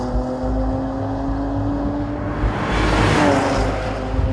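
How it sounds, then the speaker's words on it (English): Porsche Panamera with PDK transmission launching hard in Sport Plus launch control, a loud steady engine roar rising in pitch as it pulls away, swelling louder toward the end. "Launching the Panamera, like all Porsches, could not be easier."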